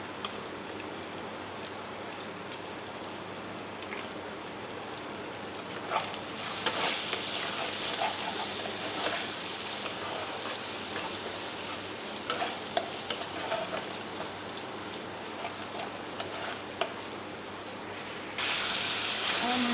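Spice paste with salt and turmeric for a Bengali prawn curry sautés in a pan, a dense, steady sizzle like rain that grows slightly brighter partway through, with faint utensil scrapes.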